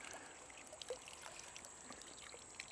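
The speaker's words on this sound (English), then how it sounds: "I'm just going to run the water into it." Water pours steadily into a tube in a portable ITEHIL E01 filter setup, a soft continuous trickle with faint splashes, quiet and close with no talking.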